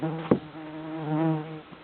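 A steady, tonal buzz of bees hums close by, swelling and fading slightly, with a couple of soft knocks.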